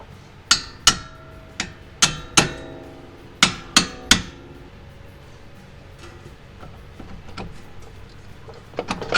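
Suspension bolts on a 2020 Mustang GT are knocked out with sharp metallic hammer blows, about eight ringing strikes in an irregular rhythm, followed by quieter taps and rattles.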